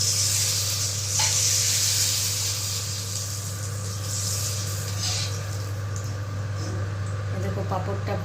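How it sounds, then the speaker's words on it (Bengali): Papad frying in a hot pan, a loud continuous sizzle and hiss that holds steady throughout, with a low hum underneath and a few brief clicks and pops near the end. "দেখো পাঁপড়টা ভাজা হচ্ছে"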